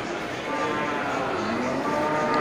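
Thin young Limousin fattening cattle at a livestock market, giving a sustained, droning low call that lasts throughout at fairly loud, close range, with general market noise around it.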